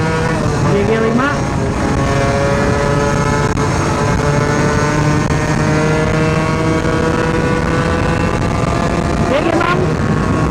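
A Suzuki Satria two-stroke motorcycle engine with a modified, drilled piston revs hard and climbs through the gears, a loud, buzzy, close whine with rising harmonics and brief dips at each shift.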